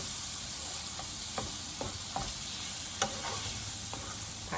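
Scallops sizzle and fry in a pan for a spaghetti carbonara with cheese and bacon, a steady soft hiss broken by occasional utensil scrapes and light taps while stirring, with no talking.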